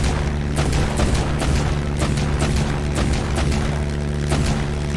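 A ship's gun firing in Black Skylands, a rapid run of heavy booming shots over a constant low engine drone, loud and close with no talk.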